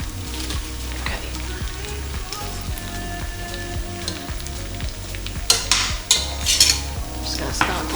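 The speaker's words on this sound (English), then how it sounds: "I'm just going to start giving that a little stir in." Cream cheese and spinach being stirred in a hot pan, a constant soft sizzle with scraping spoon strokes, growing busier and louder in the last few seconds, with music playing underneath.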